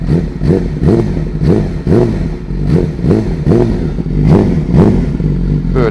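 A 2012 Yamaha YZF-R6 sport motorcycle's engine and exhaust are revved in quick, repeated blips, loud and close, each burst rising and falling in a steady pulsing rhythm.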